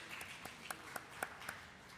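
Audience at a COP27 panel session applauding the panelists, a faint, steady patter of clapping with a few sharper individual claps.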